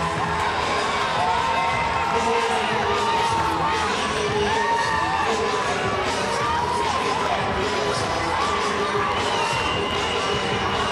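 A softball game crowd cheers and shouts steadily throughout, loud and dense with whoops and children's voices, a continuous wash of stadium noise with no break.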